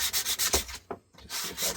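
Hand sanding a small scrap-wood fishing float, with rhythmic rasping strokes up close, a brief pause midway, then sanding resumes, and no talking.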